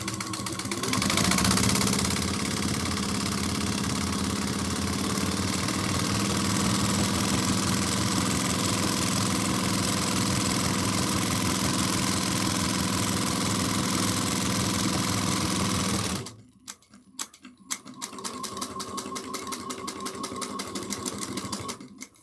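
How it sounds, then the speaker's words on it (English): A sewing machine stitches a seam in a long, loud, steady run up close, then stops briefly and resumes with a shorter burst of back stitches. "we're going to go down the side that is already closed naturally, and we're going to back stitch a couple stitches"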